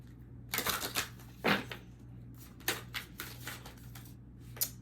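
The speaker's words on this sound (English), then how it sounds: "Spirit told me to shuffle, so shuffle a couple times here." Tarot cards being shuffled by hand in several quick riffles and bursts of papery flicking and slapping, close by over a low background hum, with no talking.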